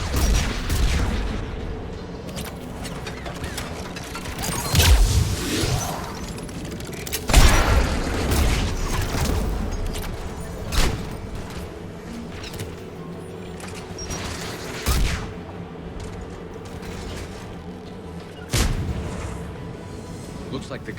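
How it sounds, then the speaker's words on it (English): Heavy anti-aircraft gun booms in Mass Effect 3, repeated deep blasts every few seconds amid rumbling battle noise and mechanical clatter, with speech mixed in. "One of us has to shut down that AA gun."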